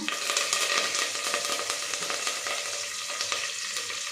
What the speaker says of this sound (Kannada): ಕರಿಬೇವು ಹಾಕ್ಕೊಳ್ಳೋಣ